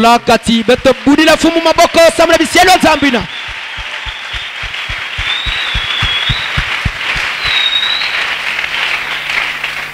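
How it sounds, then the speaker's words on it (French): A church congregation applauds together in a sustained burst of clapping, with loud speech or singing at the start that cuts off before the steady, fairly close applause. "que nous acclamons le Seigneur pour ce qu'il fait"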